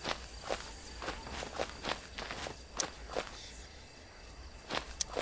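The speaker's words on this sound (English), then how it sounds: "Thought I heard footsteps for a second." Footsteps in the horror video game Raw Footage, a steady crunching walk over forest ground that stays close and fairly faint throughout.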